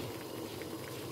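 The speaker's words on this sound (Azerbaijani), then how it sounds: "Qoymuşuq, qazın üzərində qaynayır." Walnut jam boils in a pot on a gas stove, a dense, steady bubbling and simmering that carries on without a break through the whole brief moment.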